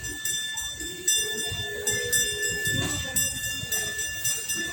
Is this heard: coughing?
no